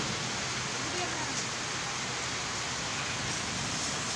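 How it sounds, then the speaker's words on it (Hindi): A steady, dense hiss of heavy rain pours without a break, loud and even throughout. "बारिश बहुत ज़्यादा आ रही है"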